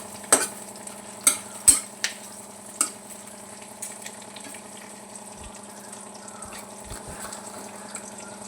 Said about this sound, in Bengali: পেঁয়াজটা একটু ভাজবো